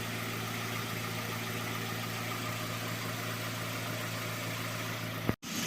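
A Hyundai Elantra with a rebuilt engine idles with a misfire in the third cylinder, giving a steady, low mechanical hum and vibration throughout, broken by a brief sharp click near the end.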